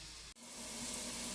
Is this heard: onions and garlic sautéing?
yes